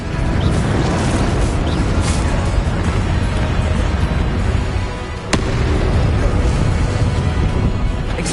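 Spell casting effects in a Harry Potter video game: a dense, continuous roar of magical blasts and crackling bursts, loud and sustained, with one sharp impact near the end.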